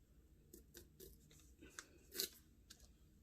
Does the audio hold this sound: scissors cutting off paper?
yes